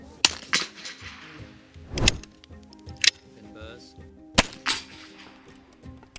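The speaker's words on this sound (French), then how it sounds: "Je viens appuyer tout doucement jusqu'à la mise au point, je respire plus, tout petit mouvement de doigt, je tire." A rifle fires as the trigger is gently squeezed: one sharp, loud crack stands out among several other clicks and knocks, with faint voices nearby.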